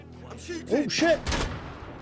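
A sharp burst of gunfire from the video game Atomfall cracks out near the end, following someone talking excitedly over quieter game ambience.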